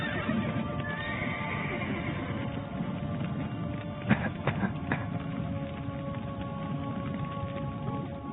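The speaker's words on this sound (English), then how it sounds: "The horses!" Horses in The Witcher 3 neigh loudly and whinny, with a few sharp hoof or clatter hits midway, set against steady rain-like ambient game noise.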